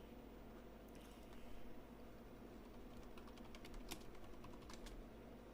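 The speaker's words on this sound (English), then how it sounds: "Typing breaking news." Keys clatter on a computer keyboard in a quiet room, a steady run of soft clicks with a few sharper taps standing out near the middle, with no voices over it.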